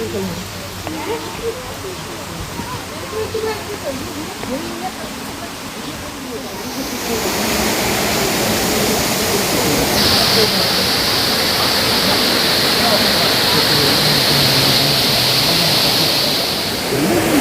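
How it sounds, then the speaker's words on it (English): A waterfall roars continuously, a dense rushing wash of water that grows louder and brighter partway through, with no voices. "standing on the bridge you can see this waterfall once again"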